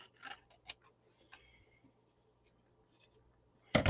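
Scissors snip through painted paper, cutting it in half in a few quiet, crisp cuts spaced apart, ending with a louder close snip.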